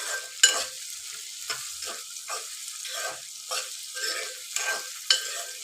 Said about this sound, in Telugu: కాకరకాయ ముక్కలు ఆయిల్లో ఇట్లా మంచిగా ఫ్రై అయితే అవుతున్నాయి